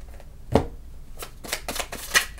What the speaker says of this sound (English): let me pre-shuffle this